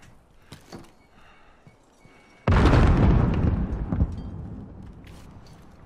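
A grenade detonates in a video game match, a sudden loud broadband blast that rings out and slowly fades over a few seconds after a quieter stretch with faint game sounds.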